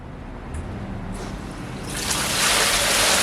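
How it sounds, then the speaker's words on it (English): A bamboo waterfall water feature in a studio: a quiet background gives way after about two seconds to a loud, steady rush of falling water. "Alexa, turn on waterfall."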